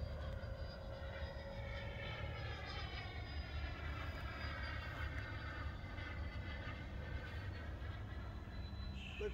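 A Freewing F-104 Starfighter 90mm EDF radio-controlled jet on its first flight gives a continuous, strong whooshing fan roar, its pitch slowly sweeping as it passes.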